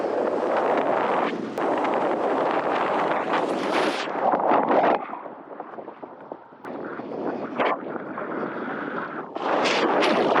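Wind rushes and buffets against the microphone in a continuous roar, easing briefly in the middle before gusting strongly again, a steady gentle wind at a wingfoil spot, La Ramée.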